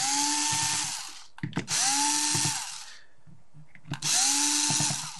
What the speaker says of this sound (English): I don't have a problem really using the electric drill